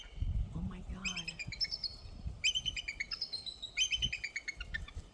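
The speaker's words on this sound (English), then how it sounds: "That's two eagles." Two eagles calling back and forth outdoors on a sunny nature walk, bursts of high, sharp chittering whistles repeating in three rounds, moderately near, with low footstep and handling rumble underneath.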